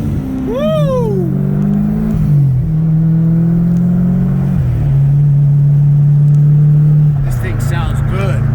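A 2021 Shelby GT500 running E85 with bolt-ons and a 2005 twin turbo C6 Corvette on E40 race, one car's engine droning loud and close as it accelerates, pitch climbing and dropping through gear shifts, with a short whoop from an occupant.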